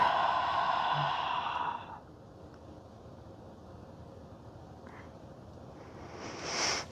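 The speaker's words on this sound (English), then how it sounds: "Big inhale. And exhale." A deep exhale during a vinyasa yoga flow: a long, soft, breathy release of air close to the microphone that fades into quiet room noise, with no speech.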